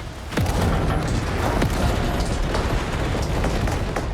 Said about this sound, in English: Hey, look at this, missiles everywhere.